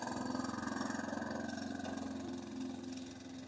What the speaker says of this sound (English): Mike's got the roller mower out today.